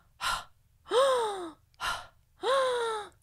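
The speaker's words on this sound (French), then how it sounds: "un petit moment de polyphonie collective sur 3 motifs qui utilisent le bruit d'expiration et d'inspiration" A collective vocal polyphony built from audible breaths: sharp breathy inhalation rushes alternate with sliding, falling voiced tones, four close phrases in an even rhythm.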